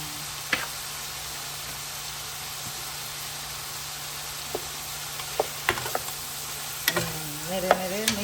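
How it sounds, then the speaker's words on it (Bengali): Qurbani meat and onion are stirred and mixed together in a pan over a quiet, low sizzle and hiss, with scattered scrapes and clicks from the spoon that grow busier toward the end. "নেড়ে নেড়ে মিক্স করে দাও একসাথে"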